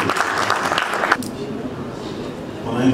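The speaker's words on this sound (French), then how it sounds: "On les applaudit." Applause from a forum audience at an international youth gathering, a brief burst of clapping that fades out quickly, followed by quieter room tone.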